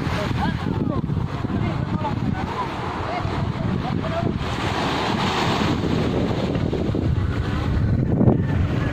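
Ocean waves and wind at a beach: a constant broadband roar of surf with gusting wind buffeting the microphone, loud throughout, with faint voices now and then beneath it.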